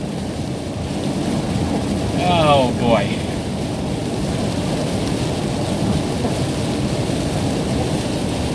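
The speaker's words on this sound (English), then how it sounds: "It is like pouring rain as I head home from work today." Heavy pouring rain drums steadily in a dense, even roar heard from inside an RV on the drive home, with a brief exclamation from a voice partway through.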